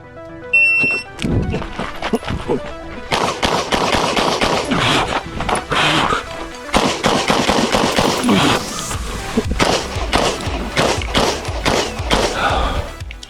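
A CZ Tactical Sport competition pistol fires in quick strings of sharp, loud shots after a short electronic beep, with brief pauses between bursts, close to the listener.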